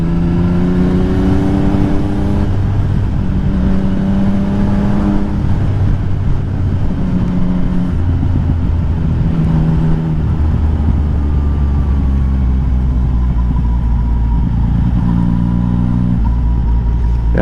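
A Yamaha MT-09 motorcycle engine hums steadily on the road, its drone shifting in pitch as revs rise and fall, loud and continuous with wind rush and no voices.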